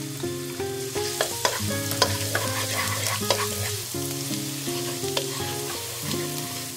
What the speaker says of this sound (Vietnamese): Dầu nóng thì mình cho hết chỗ hành tỏi còn lại vào phi lên cho thơm.